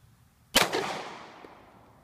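A single sharp gunshot at an outdoor shooting range, loud and close, cracking suddenly and then trailing off in a long fading echo.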